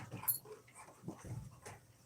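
Dog whimpering softly in a home while people move around, faint short whines and snuffles scattered across the moment, low and close but quiet.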